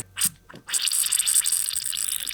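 Coolant leaks from a hole in a windshield defroster line on an old school bus, with a few close drips followed by a steady trickling splatter.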